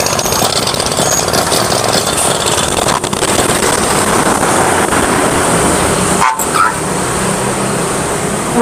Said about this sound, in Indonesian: Digowes gini, koplingnya ditarik. Itu udah langsung hidup motornya.